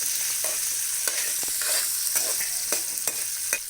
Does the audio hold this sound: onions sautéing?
yes